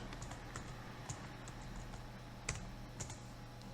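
Keys clatter on a computer keyboard in quick, uneven bursts of soft clicks, close and fairly quiet, with a few sharper taps standing out over a low steady hum.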